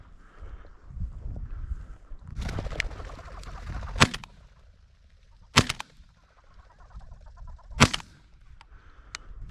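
Shotgun blasts while bird hunting outdoors in Montana with pointing dogs: three sharp, loud cracks a couple of seconds apart over faint rustling and wind, with no talking.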